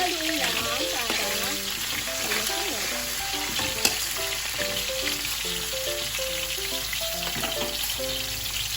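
Potatoes and carrots frying in a pan, a steady, close sizzle with occasional stirring scrapes underneath, while a faint tonal background sound runs alongside.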